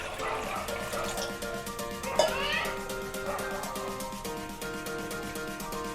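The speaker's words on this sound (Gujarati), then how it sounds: "થોડું પાણી નાખશું કુકરમાં" Water pours into a pressure cooker holding potatoes to be boiled, a steady trickling splash that runs continuously at a moderate, fairly quiet level, close by.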